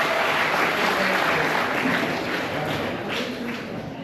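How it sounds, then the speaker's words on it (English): Sustained applause from an audience at an entrepreneurship talk, a dense broadband clatter of many hands filling the room steadily for several seconds and easing slightly toward the end. "a big round of applause"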